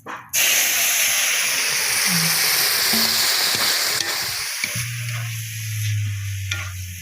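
Five-spice tempering (panch phoron) hits hot oil and is poured into dal, producing a loud, sudden hissing sizzle that runs continuously and settles into a steady bubbling hiss, close up.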